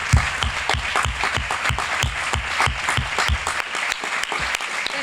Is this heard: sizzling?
no